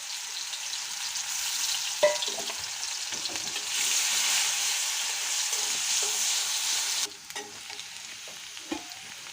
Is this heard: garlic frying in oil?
yes